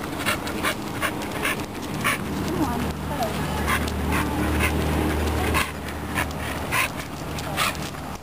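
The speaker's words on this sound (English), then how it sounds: "This is my crazy dog going to the dog park." A dog pants rapidly and whines in short high whimpers, close by, while people talk over it.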